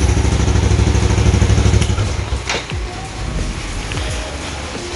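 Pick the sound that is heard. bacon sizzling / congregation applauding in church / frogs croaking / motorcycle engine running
motorcycle engine running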